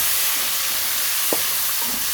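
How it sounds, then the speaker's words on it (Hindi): A steady, hissing sizzle comes from sliced potatoes frying in a pan with chopped tomatoes, broken by one brief clink of a utensil partway through. "तो यहाँ पे मैं इसमें डालूँगी चॉप किए हुए 2 मीडियम साइज़ के टमाटर।"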